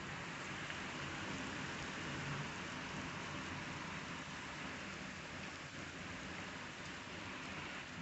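Steady rain falls throughout a thunderstorm as a dense, even hiss, with a faint low rumble beneath it and no voices.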